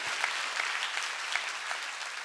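Dense, even applause from a church congregation fills a Sunday worship service, sounding steady and somewhat distant without clear individual claps standing out.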